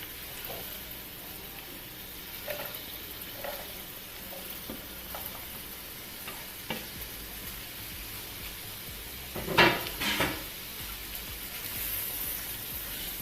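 Onions and peppers sizzle steadily in a hot pan, with a few soft stirring clicks and scrapes and one louder burst of spatter near the end. No one speaks.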